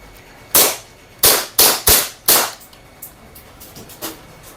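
Handgun test-fired as an M92 Taurus pistol with silver finish and black grip: five sharp, loud shots in quick succession, each with a short decaying tail, followed by fainter distant bangs.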